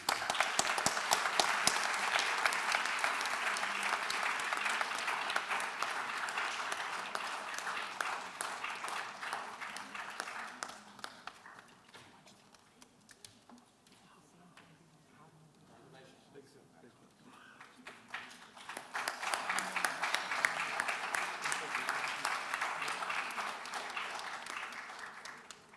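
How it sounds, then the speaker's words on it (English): Audience applause at an award ceremony for a film, loud sustained clapping that dips to a quieter stretch midway and then swells again; no clear talk over it. "you can see from the applause the audience loved the film"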